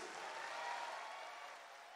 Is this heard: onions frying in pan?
no